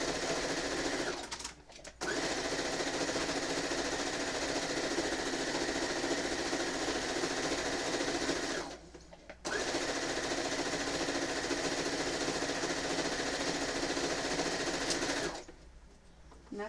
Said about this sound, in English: I'm going to sew 3 edges